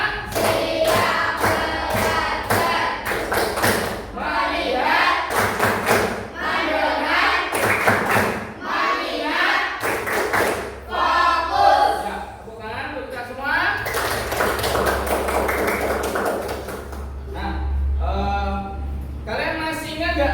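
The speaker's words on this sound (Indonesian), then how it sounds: "Yuk sekarang tepuk 1, tepuk 2, tepuk 3, tepuk 4, tepuk 5." A class of pupils claps in a counted rhythm of one to five beats, sharp group claps repeating in bursts at close range, with a teacher's voice calling out between them.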